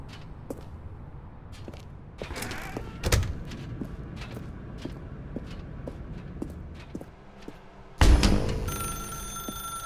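A telephone rings in The Stanley Parable video game, with short repeated bell bursts in an indoor space among footsteps and clatter, followed by a louder clunk near the end.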